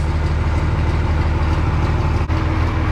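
Tractor engine idling steadily while warming up on a cold day at harvest time, a loud, close, continuous low rumble with one brief dip partway through.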